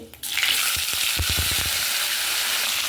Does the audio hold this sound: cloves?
yes